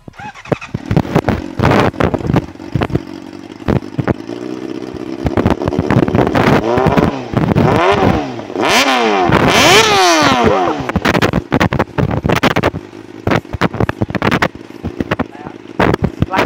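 A 2009 Honda CBR600RR sport motorcycle engine revs repeatedly, rising and falling in pitch with sharp throttle blips, loud and close, with people talking around it.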